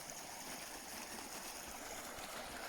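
A scenic river flowing past, a soft continuous rush and trickle of water heard from nearby, steady and fairly faint throughout.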